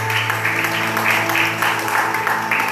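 Church congregation applauding during an evening worship service, a steady mass of clapping with pulsing swells over sustained organ-like tones, moderately loud throughout.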